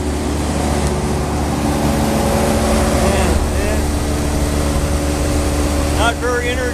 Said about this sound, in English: that's the noise, well, of the condensing unit, the compressor itself.